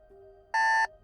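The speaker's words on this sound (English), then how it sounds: "The shrill of my alarm clock was nerve-wracking." An alarm clock goes off with a loud, shrill electronic buzz in two harsh bursts, preceded by a faint steady tone, ringing alone in a quiet room.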